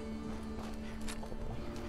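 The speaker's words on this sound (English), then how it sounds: "You better run, you stupid little horse." A horse in the Fallout 4 video game clip-clops away, with quick, faint hoofbeats over a steady droning game background.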